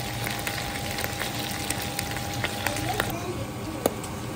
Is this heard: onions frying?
yes